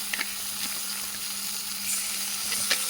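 Ginger-garlic paste fries in a pan under a steady, close sizzle, with a few light clicks and scrapes from the stirring spoon spaced through it and no talking.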